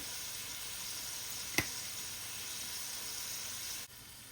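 Carrots frying with seasoning in a pan, a steady soft sizzle and hiss running throughout, with one brief sharp click partway through.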